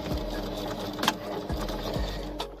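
Sewing machine stitching a 1 cm seam on a fabric kings' crown, with a steady close mechanical whir and a few soft clicks over a short back-tack run.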